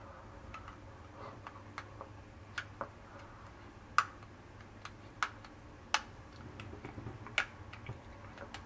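Waxed dental floss working between teeth produces a handful of sharp, close clicks at uneven intervals over a faint background hiss.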